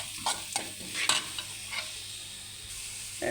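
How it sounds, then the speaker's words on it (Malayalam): Ground coconut paste gets stirred into frying green beans for thoran, with a low sizzle broken by several sharp spoon scrapes against the pan, close by and with no voices. "അരപ്പിട്ടിട്ടൊന്ന് ഒന്ന് ഇളക്കാം ഒന്ന് തോരുന്നവരെ ഒന്ന് ഇളക്കാം"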